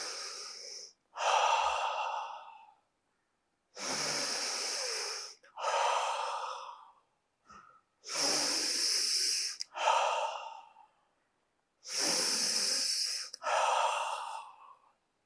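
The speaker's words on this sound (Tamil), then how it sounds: "மூக்கில் ஃபுல்லாக சுவாசம் இழுத்துட்டு வாயில வெளியில் விடணும்" Deep breathing exercise: several slow cycles of full breaths drawn in through the nose and pushed out through the mouth, each breath a long, close, airy rush separated by short pauses.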